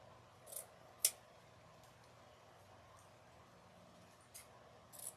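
Scissors trim the layered craft pieces for a bee door hanger, making a few faint, sharp snips spaced apart in a quiet room, with no talking.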